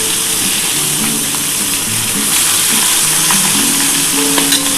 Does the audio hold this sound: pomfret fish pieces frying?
yes